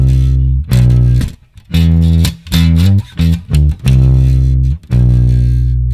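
Distorted bass guitar playing the main riff of a song, loud and close, in choppy phrases with brief gaps between notes.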